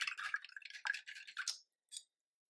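A paintbrush swished and tapped in a small container of water gives soft, close splashy clinks and swirls in quick bursts, then a short pause and one last faint stir.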